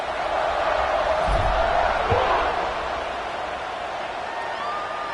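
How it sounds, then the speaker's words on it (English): A stadium crowd at a football game buzzes with a loud, steady roar that swells briefly and then settles into a lower, continuous murmur. "this crowd is buzzing after that last score"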